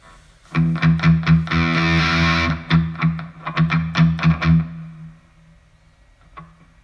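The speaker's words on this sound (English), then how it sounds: "Put some distortion on so I can really hear these palm mutes." A heavily distorted electric guitar plays a string of chugging palm-muted notes and short bursts, then rings out and fades to near silence.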